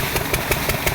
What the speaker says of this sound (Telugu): చిన్న ఇంజిన్ తోటి నీళ్ళు ఎక్కిచ్చేసి పెద్ద ఇంజిన్ స్టార్ట్ చేయాలి